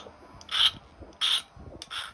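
A metal file works a copper horseshoe nail notcher used for flintknapping, making three short, close scraping strokes with brief pauses between them.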